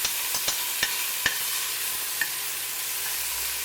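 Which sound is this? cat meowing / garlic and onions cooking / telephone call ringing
garlic and onions cooking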